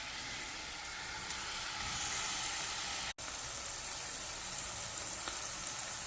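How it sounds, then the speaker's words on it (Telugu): Fish coated in salt, chili and ginger-garlic paste frying in a pan, a steady, fairly loud broadband sizzle that continues throughout with one brief drop-out partway through. "ఇప్పుడు ఫ్రై చేసేద్దాం పదండి"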